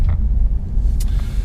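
Engine of a 2016 Mazda CX-3 Grand Touring, a non-turbo petrol unit, hums steadily while driving, a low continuous rumble heard from inside the cabin with no talk over it.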